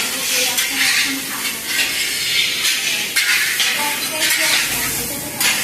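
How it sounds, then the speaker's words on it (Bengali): Cauliflower fries in a wok under repeated stirring, with loud close sizzling broken by rhythmic scraping strokes of a utensil against the pan. "কপি ভাজা হচ্ছে, সব ভাজা করে তারপরে আমাদের তরকারি বসবে।"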